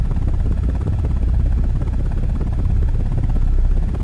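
A helicopter's rotor thumps and whirs continuously and loudly in an attack helicopter video game, a steady pulsing drone with no pauses.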